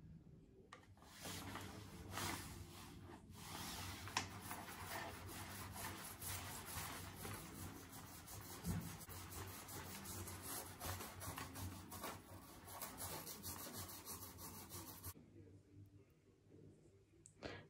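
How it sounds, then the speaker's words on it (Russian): An old toothbrush with toothpaste scrubs dirt off a white shoe sole, giving repeated rasping back-and-forth strokes, fairly close and steady for most of the stretch, then stopping near the end. "Чтобы оттереть белую подошву от грязи, нам понадобится старая зубная щетка и зубная паста."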